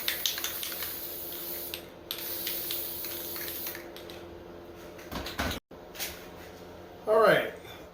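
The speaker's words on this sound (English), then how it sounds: "I'm also going to spray the matte finish on it first." Short hissing bursts of matte-finish aerosol spray hit custom San Francisco 49ers sneakers indoors, the spray repeating several times across a steady noisy background while a person talks.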